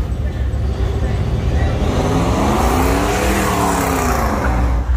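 A car engine revs hard and loud at a street show-and-go event in Chicago, rising and falling in pitch as the wheels spin, with steady crowd noise and voices throughout.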